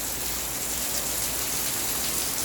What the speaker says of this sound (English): It said the rain was gonna stop at 1, but now it's 2:10 and it's raining